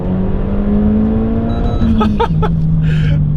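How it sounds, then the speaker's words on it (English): A 2019 Renault Megane RS Trophy accelerates hard out of a corner, its engine note droning loud and steady from inside the car, with a quick gear change partway through. "You can really get to experience the car by putting your foot flat down"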